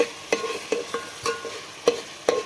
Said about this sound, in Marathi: हे बघा कसा मसाला भाजतोय